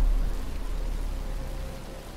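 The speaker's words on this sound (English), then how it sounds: "But it's starting to rain." Steady rain in the Batman Arkham Asylum video game, a soft continuous hiss of falling drops, fairly faint and unbroken with no talk over it.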